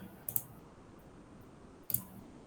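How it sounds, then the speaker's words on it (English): Two sharp, quiet mouse clicks about one and a half seconds apart on a computer, each a brief tick over a low, steady room hum. "Because I click on this object."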